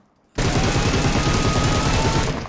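Rapid automatic gunfire from an M7 rifle in the mobile battle-royale game PUBG Mobile, a loud, dense burst of repeated shots starting abruptly after a brief silence and running continuously to the end.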